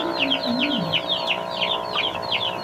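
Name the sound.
chickens clucking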